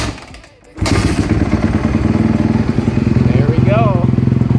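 A Yamaha YZ250F dirt bike engine, back in running order after repair, fires up after a brief quiet moment and settles into a loud, steady, close idle, with a short spoken remark over it.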